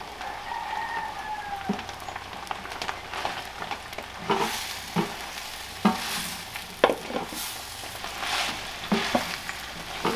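Longaniza sausage fries with onion and chiles in a pan on a ranch kitchen stove, a steady crackling sizzle punctuated by periodic spoon scrapes as it is stirred, with a rooster crowing faintly in the background.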